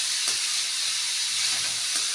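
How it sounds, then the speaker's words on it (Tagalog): Thin slices of pumpkin with egg fry in a pan with a steady, close sizzle and hiss, broken by a few faint stirring scrapes and no talking. "Prito-prito lang muna."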